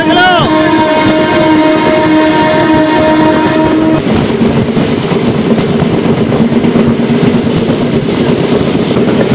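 A Rajahmundry to Bhimavaram MEMU train runs loudly on the rails, its horn sounding in sustained tones for the first four seconds before giving way to steady rumbling wheel and carriage noise.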